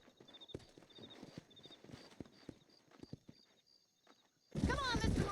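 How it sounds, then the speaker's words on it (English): Horses' hooves clip-clop at a steady walking pace in Red Dead Redemption, moderately close, with a louder burst of noise at the end and voices speaking over it. "These are fine horses."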